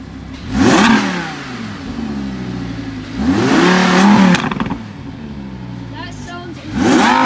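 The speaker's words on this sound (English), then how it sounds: "This is how the engine sounds when it's revving." An Audi R8 V10 Plus engine revs hard three times, each sweep rising to a loud howl and falling away, with a quieter idle between bursts.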